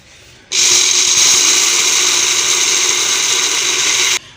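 An electric grinder whirs steadily while grinding apricot kernels, a loud continuous high-pitched motor whine that starts abruptly and cuts off after about three and a half seconds.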